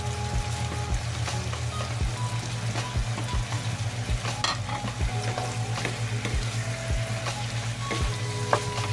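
Broccoli stems frying in a pan give a continuous close sizzle, with regular scraping knocks from stirring at a steady rhythm throughout.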